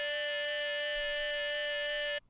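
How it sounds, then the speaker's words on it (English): A broken synth lead from Sinju's third kit, made for a rage beat, holds one steady bright tone with a wobbling, siren-like vibrato layer woven through it, loud and unbroken for about two seconds before it cuts off abruptly. "And then lastly, I have the broken lead from Sinju's third kit"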